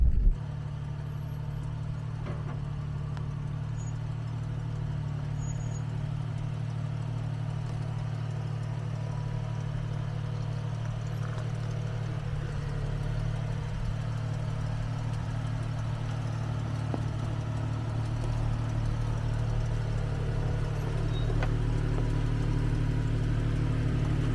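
An off-road vehicle's engine hums low and steady as it creeps down a rough mountain trail, a constant droning rumble with faint rattles and no talking.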